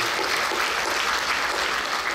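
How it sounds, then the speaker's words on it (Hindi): A gathered crowd gives loud, dense applause for the food donors who provided the prasad offering, a steady wash of many hands clapping together. "उन सभी हमारे अन्नदाताओं को भी एक बार जोरदार ताली"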